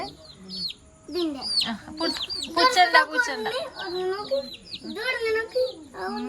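High, rapid peeping of chicks mixes with soft clucking from hens close by, while a person speaks in between the calls.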